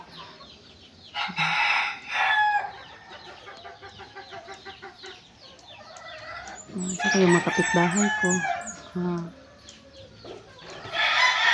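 Chickens and roosters near a roadside, several crows and clucks in bursts, fairly close, with a brief voice speaking between them.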